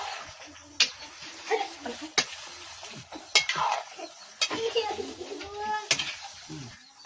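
Shrimp with bottle gourd and eggplant stirred in a cooking pot, with repeated metallic scrapes and clanks of a spoon against the pot, close by, while birds coo in the background.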